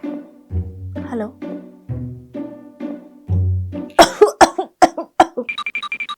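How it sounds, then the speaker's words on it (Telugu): A person coughs repeatedly at close range. A run of deep, heavy coughs is followed by quicker, sharper coughs and throat sounds near the end. "దగ్గు ఇంకా తగ్గలేదు సార్"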